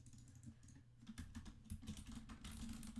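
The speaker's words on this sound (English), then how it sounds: "I just pressed all my keys." Computer keyboard keys are pressed in quick, uneven clatters, soft and close, with a few louder bursts of several keys struck together.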